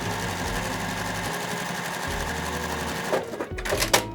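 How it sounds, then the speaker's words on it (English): A sewing machine stitches a square onto quilt strips, running in a steady close whir with brief pauses and restarts, then some handling noises toward the end. "I'm going to sew down that line directly onto my strips"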